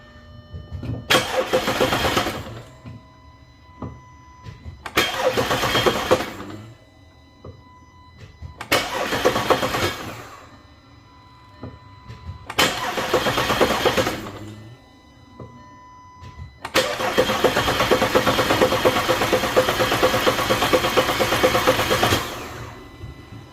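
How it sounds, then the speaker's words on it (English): An Audi 3.2L engine cranks over repeatedly in four bursts without catching, each a whirring starter churn separated by pauses, then a longer final crank, close and loud. "Just gonna go crank, but no start on this."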